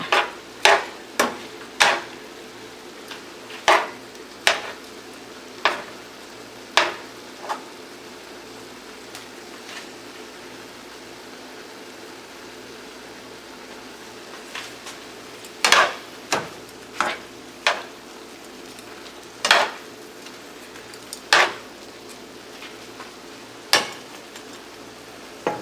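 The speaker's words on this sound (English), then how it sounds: "you're just going to saute that for about a minute." Garlic sautés in a pan for shrimp scampi, a low steady sizzle under irregular clacks of a utensil stirring against the pan, close and moderately quiet with no voices.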